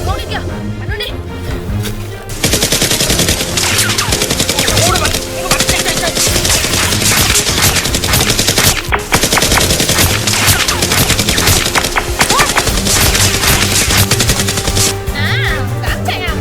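Nerf guns firing during a Nerf war, with rapid, dense bursts of clattering shots and snaps filling nearly the whole stretch at close range, while people shout and talk over them.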